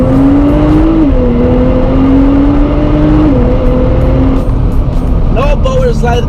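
A supercar in R mode accelerates loudly on a wet road, its engine note climbing through gear changes, with someone talking over it.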